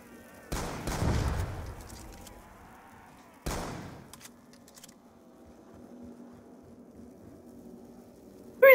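Rifle fire from an M14 in Black Ops 2 Zombies, with two loud bursts of shots about three seconds apart, then a quieter stretch with a faint hum and scattered game sounds, and a sharp burst right at the end.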